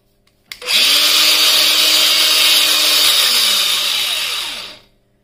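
A Makita BGA452 cordless angle grinder spins up and runs with a loud, steady high-pitched motor whine for about four seconds, then winds down, with a click as it starts.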